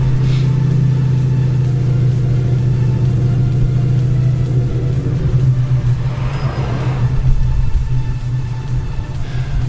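A 550 HP Ford Mustang GT idles close by with a deep, steady rumble that swells slightly partway through, no voices over it.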